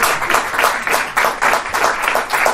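A live comedy audience claps at a stand-up contest, a fairly close, continuous burst of applause with rhythmic pulsing swells and no talk over it.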